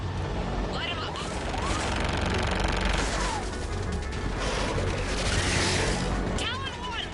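Rapid gunfire from air support raking ground targets in the Mass Effect game, a dense continuous fusillade with booms and whooshing passes, mixed with radio chatter throughout.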